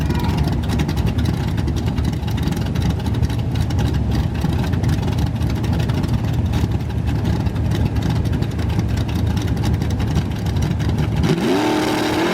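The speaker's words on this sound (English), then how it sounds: "Hear that little stumble on AJ's car every time he gets on the chip" Drag race cars launch at a bracket race, including an El Camino whose engine stumbles on the throttle, a steady loud engine roar filling the track until it drops to a lower rumble near the end.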